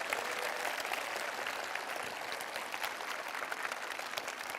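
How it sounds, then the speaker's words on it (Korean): An audience at a talk concert applauds in a steady, even wash of many clapping hands, moderately distant and continuous throughout without voices on top. "여러분 박수 한번"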